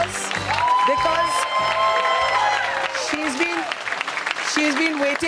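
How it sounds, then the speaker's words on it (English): An audience applauds and cheers to welcome Sudha Murthy on stage, a dense wash of clapping mixed with music and voices throughout. "Let's give her a big applause"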